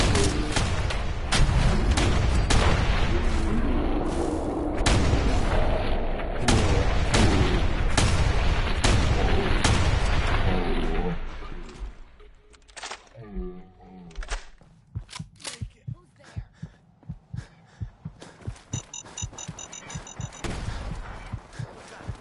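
Gunfire in a surprise assault: dense, loud volleys of shots and booms for the first ten seconds, then a sparser string of sharp reports and thuds.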